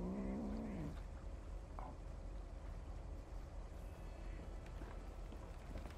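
A cat near a lake gives a short drawn-out meow at the start, then a low continuous hum of background noise carries on without further calls.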